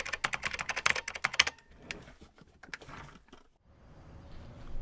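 Rapid typing on a computer keyboard: a dense burst of sharp, close clicks that thins into scattered, slower keystrokes and then fades to a quiet hiss.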